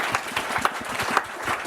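Brief, fairly faint applause for panelists at an online circular-economy and net-zero meeting, a handful of claps scattered rather than a full ovation.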